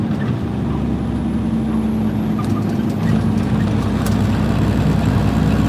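Steady low diesel drone of a heavy truck's engine brake while descending in 15th gear, a constant rumble with a faint high whine above it.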